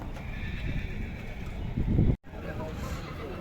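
Horses at the Tokmok horse market whinny and neigh close by, with hoof clip-clop, over steady crowd chatter and someone speaking.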